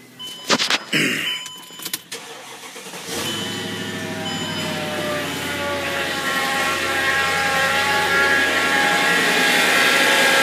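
Supercharged Mercedes E55 AMG engine cranks after a few clunks and catches, then settles into a steady idle with a faint whine from the freshly reinstalled belts and pulley, running close and alone without talk.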